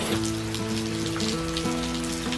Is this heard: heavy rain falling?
yes